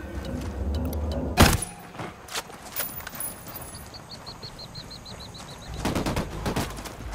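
Gunfire in Ghost Recon Wildlands: a sharp, loud shot, then scattered cracks and a quick rapid burst, with a further cluster of shots near the end over a low background.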